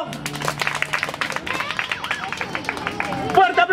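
Audience at a magic show in Vitigudino breaks into applause, scattered quick claps building into a steady patter under a loud voice and crowd chatter, swelling near the end.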